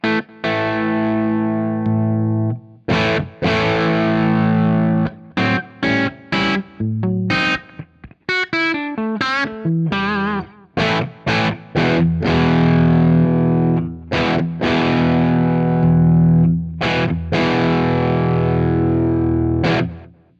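Heavily distorted bass guitar through a Gizmo Audio SB distortion pedal with fat switch plays loud, gritty notes and chords with short pauses between phrases, a thick fuzzy tone with prominent low end.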